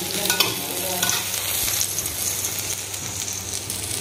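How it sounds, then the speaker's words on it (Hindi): Onion, garlic and chilli fry and sizzle in a hot wok, a steady broadband hiss with occasional stirring scrapes and clinks running throughout, close up and without voices. "ଟିକେ ଭାଜି ଦେଉଛେ ଲାଲ କରିକି।"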